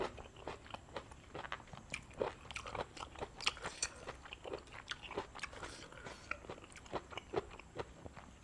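Crunchy bites and chewing of Thai papaya salad (tam sabai nang) with fresh raw vegetables, close, rapid irregular crunches running continuously without speech.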